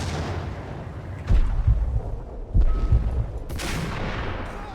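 Gunfire from a gun in the Max Payne video game, loud repeated booming shots in uneven bursts over a dense, rumbling background.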